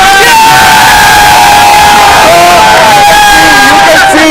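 A huge crowd at India Gate on a Sunday night cheers and yells in celebration of India's Champions Trophy win, very loud and sustained with shrill whoops and shouting voices rising over the roar.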